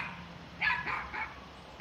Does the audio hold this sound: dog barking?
yes